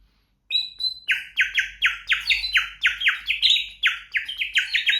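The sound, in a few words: unpainted ceramic bird water whistle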